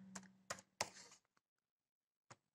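Several sharp key clicks from a computer keyboard while a login name is entered, three quick strokes followed by a couple of faint taps after a pause, close and fairly quiet with no talking.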